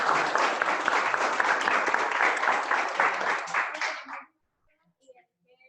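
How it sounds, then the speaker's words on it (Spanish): A room of participants at an assessment center applauds everyone, dense steady clapping for about four seconds, with some voices mixed in, then stopping abruptly into near silence. "un aplauso por favor para todos nuevamente"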